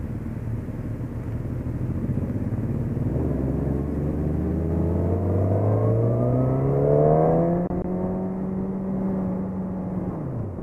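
A Suzuki GSX-R 1000 motorcycle riding in second gear at a demo event, its engine note climbing steadily as it accelerates with heavy wind rush, heard loud from the rider's position, then easing off.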